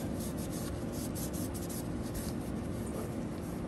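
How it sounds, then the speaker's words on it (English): A rag rubs and scrubs excess oil and grime off a Honda TRX 300EX ATV during an oil and filter change. The close, steady rasping continues without pause and no one speaks. "now you want to wipe down all the excess junk"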